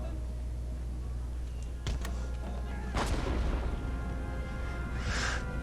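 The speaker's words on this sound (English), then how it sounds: "We'll continue to let our cannons just blast away" Cannons fire in a strategy game set around the United Provinces, with booming shots and a sharp blast among continuous rumbling battle noise and other impacts.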